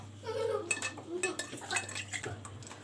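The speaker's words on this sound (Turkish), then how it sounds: "Ve karıştırıyorum." A spoon scrapes and clinks against a bowl while wheat is stirred into cold ayran soup with mint, a few light, irregular knocks and taps at low volume, with faint voices in the background.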